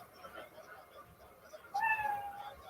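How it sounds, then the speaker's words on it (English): A short cat meow plays as a time's-up sound effect, a single rising-then-falling mew arriving suddenly after a quiet stretch with murmured voices in the background. "you know your 60 seconds is up when you hear the sound of a kitty"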